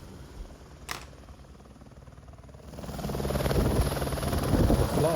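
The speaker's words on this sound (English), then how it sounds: "The two squirrel helicopters can carry 6 passengers." A Squirrel helicopter flying over the Fox Glacier area on New Zealand's South Island, its rotor thrum starting soft and rising to a loud, steady drone, with a brief click near the start.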